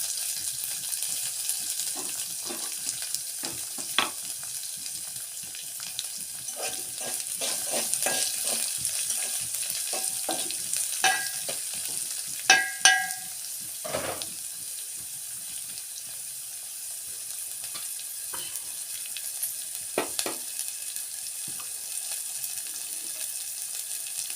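Chopped onions sizzle and fry in hot oil for potato bonda, a steady soft crackle broken by occasional stirring scrapes and clinks from the pan, with no talking.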